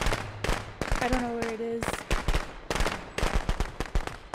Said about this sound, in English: it made me throw my damn fireworks